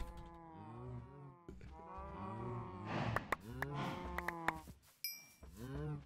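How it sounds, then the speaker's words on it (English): Repeated mooing from a cow in modded Minecraft (FoolCraft 2, version 1.10.2), several drawn-out lowing calls in a row with brief sharp clicks and a short tone partway through. "I got it to work and I got an XP cow"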